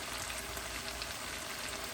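Onions, spices and tomatoes frying in a pan for Fiji-style aloo matar curry, giving a steady, even, close hissing sizzle with no break.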